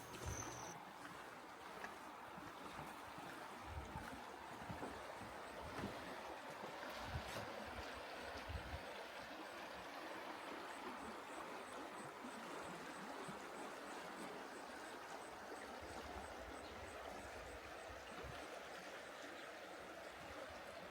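A river in New Mexico runs beside a bike retreat with huts, its flow a faint, even rush that continues steadily for the whole stretch with no voices.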